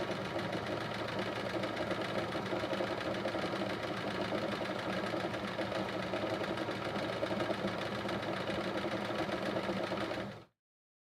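A sewing machine runs steadily during free motion quilting, a continuous close rattling hum with fast mechanical ticking that holds even for about ten seconds before cutting out abruptly.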